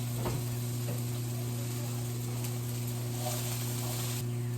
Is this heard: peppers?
yes